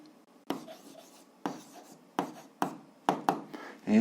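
Pen strokes writing down an answer to an algebra exercise, a series of short scratchy bursts at an irregular rhythm, close and fairly quiet, with no talk.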